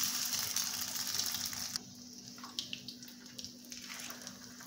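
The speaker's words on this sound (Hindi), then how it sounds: "मैं दूसरे भी फ्राई करती हूँ।" Potato kababs frying in a pan of hot oil, a steady sizzle that is loud at first and then drops to a softer crackle with scattered pops, heard close up with no talking.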